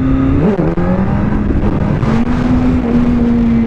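A Kawasaki ZX-10R motorcycle engine holds a steady, loud drone while riding a wheelie, with a brief rev dip near the start before the pitch settles and climbs gently; no talking.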